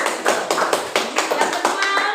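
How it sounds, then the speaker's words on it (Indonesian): Brisk hand clapping from a small classroom group of students, a quick rhythmic run of close claps lasting about two seconds with no talk over it. "tepuk tangan untuk kita semua"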